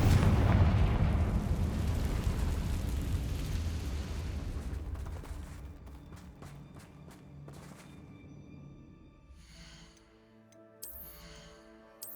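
Confringo blasting spell explosion in the video game Hogwarts Legacy: a heavy, loud boom and rumble that slowly fades over several seconds into scattered crackles and lighter game sounds, with no voices.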